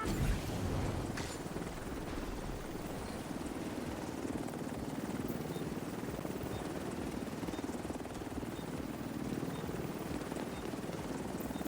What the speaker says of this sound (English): Helo at the extraction zone. Helo arrived.